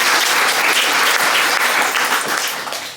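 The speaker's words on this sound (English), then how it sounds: "So big round of applause for all of you and the hard work you've been doing as well." Applause from guests at an annual cocktail party, a dense, steady clatter of many hands close by that holds for several seconds before tapering slightly at the end.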